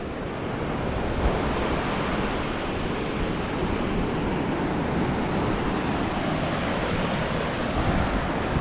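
Surf at Kamala Beach, Phuket, near the Tsunami Memorial rolls in as a continuous, full wash of breaking waves with some wind rumble, no voices.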